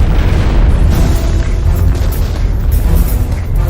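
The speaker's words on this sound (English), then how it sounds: "An enormous explosion rocks the T2 laboratories in Jacksonville" An enormous explosion at the T2 Laboratories chemical plant in Jacksonville produces a sustained, very loud, deep roaring rumble that fills the whole stretch without a break.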